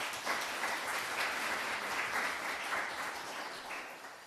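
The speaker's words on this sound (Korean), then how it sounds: "우리 응원의 박수 한번 드리겠습니다" Applause rises from a Korean church congregation at a Sunday worship service, a thick, continuous patter of many hands that stays full and even, then tapers off slightly toward the end.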